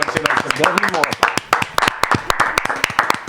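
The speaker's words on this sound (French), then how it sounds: "On applaudit." Audience applause breaks out during a quiz show as a guest is brought on, a dense run of sharp claps from a group lasting the whole stretch, loud and close.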